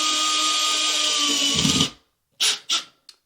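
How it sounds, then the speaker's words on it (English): A power drill driving screws to mount a TV on a wall whirs steadily for about two seconds and winds down, followed by a few short, sharp bursts of the drill. "You just want to use the drill until you're almost there"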